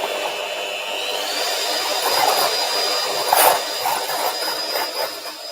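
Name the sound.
electric mixer whisking egg white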